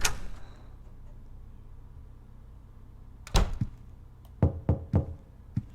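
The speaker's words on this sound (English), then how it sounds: "Oh, someone's knocking the door." Knocking on an apartment door in the horror video game Silent Hill 4: The Room, a heavy thud followed by a run of four or five firm knocks, alone over a quiet, dark ambience.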